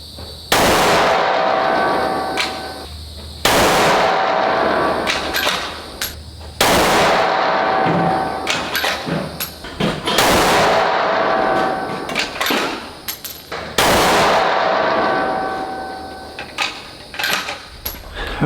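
A Terminus Zeus rifle with a switch barrel fires five loud, sharp gunshots at an outdoor range. They come roughly three seconds apart, and each crack rings out and fades before the next.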